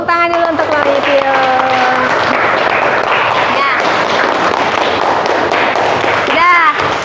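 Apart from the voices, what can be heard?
audience applause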